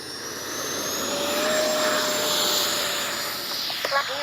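Freewing 90mm T-45 Goshawk RC jet with electric ducted fan taking off with flaps set, a loud steady high-pitched whine and rushing roar that holds throughout, with a brief faint clatter near the end.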